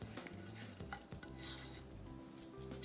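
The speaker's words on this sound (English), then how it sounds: "So we are going to mix all these things in this." Potato filling for aloo naan being mixed with ajwain and grated ginger in a bowl, a soft, continuous stirring and scraping that stays faint.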